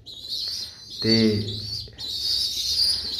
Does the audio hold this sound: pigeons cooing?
yes